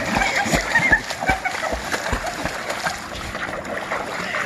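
A Doberman Pinscher splashing on its first swim, steady sloshing and paddling water close by, with people talking and encouraging throughout.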